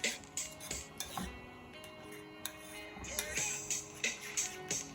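Sauce with grated garlic is mixed in a bowl for Mexican corn. A utensil clinks and scrapes against the bowl in quick irregular taps and rubs, fairly quiet and close.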